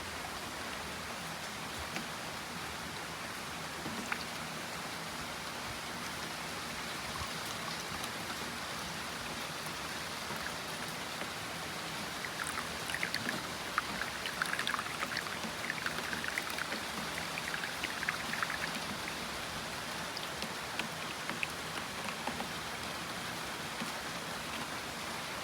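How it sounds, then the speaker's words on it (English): Heavy rain pouring down in Japan as the wind picks up, a constant broadband wash of falling water with some brief spattering bursts partway through, no voices. "Wow, the rain is really coming down and the wind is starting to pick up."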